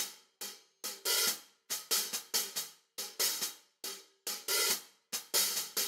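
Bounced Addictive Drums beat for a grime instrumental, with sharp repeated hits in a syncopated pattern, some chopped short and others ringing into bright decaying tails, loud and alone with no voices.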